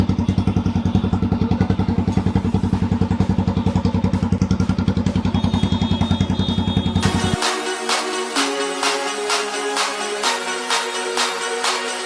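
Bajaj Pulsar NS200 motorcycle engine running with the stock exhaust removed, a loud, close, rapid-firing idle for several seconds before the note cuts to a sparser series of sharp metallic knocks and clatters.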